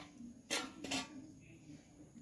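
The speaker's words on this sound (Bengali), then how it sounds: "দেখুন চিনি শিরাটা আমি ঢাকা দিয়ে রেখে দিচ্ছি" Two quick metallic clanks of a lid set onto a pot of sugar syrup while sweets are being made, sharp and close, with a faint voice in the background.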